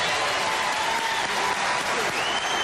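A studio audience on a late-night talk show applauds loudly and continuously, a dense, even wash of clapping that holds steady throughout.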